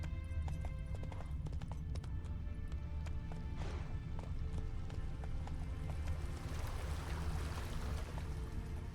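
Hoofbeats of Roach, Geralt's horse, galloping steadily in the Witcher 3 video game, a continuous rhythmic clip-clop under ambient game sound and music.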